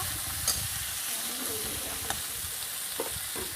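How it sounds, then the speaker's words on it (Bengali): Chicken with tomato frying in a pan is stirred, a broad steady sizzle and hiss with a few sharp scrapes of the spoon against the pan, close and alone without talk. "একটু নাড়তে থাকবো, ভালো করে নেড়ে নেব।"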